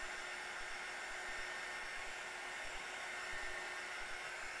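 A hair dryer blows a steady, loud whine and whoosh over wet watercolor paper, running unbroken and alone.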